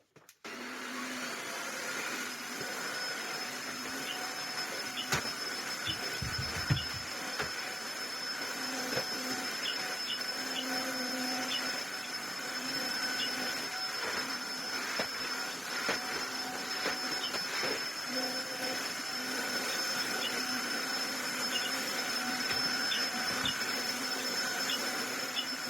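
A Tineco Floor One wet-dry vacuum cleaner runs with a steady, continuous motor drone and whine, close and even throughout, with faint clicks and no talk.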